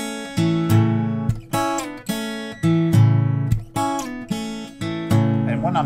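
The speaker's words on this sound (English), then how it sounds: "my signature riff, if you will, that goes through is a chicken picking part, and it goes like this." Chicken picking riff on guitar played with a pick, a run of sharp, twangy plucked notes and short bursts in a bouncy, syncopated rhythm, close and clear with no voices.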